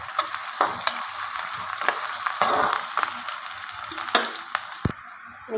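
Chopped onions and curry leaves fry in oil in a pan, a dense steady sizzle broken by scraping stirs and a few light clinks, with no talking.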